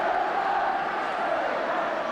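A large football crowd at an Arsenal versus Ipswich Town match chants in one sustained, dense roar, loud and continuous throughout the brief moment with no pauses.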